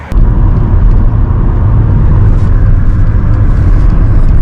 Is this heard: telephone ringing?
no